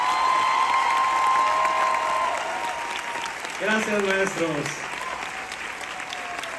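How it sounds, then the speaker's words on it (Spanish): A theater audience gives steady applause after a stage production, with a voice speaking briefly over the clapping midway before the applause carries on at a slightly lower level. "Fuerte aplauso para ellos."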